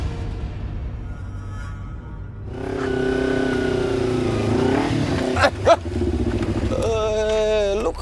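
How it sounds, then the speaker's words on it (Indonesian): A motorcycle engine drones and revs up close as it nearly grazes someone on the road, holding a loud steady pitch that rises before a couple of sharp knocks, with voices briefly heard. "bawa motor, hati-hati dong."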